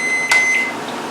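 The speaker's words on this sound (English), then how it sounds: "put it in the microwave, close the door" A microwave oven starts up after its door is shut, with a short beep over a steady, close electrical hum.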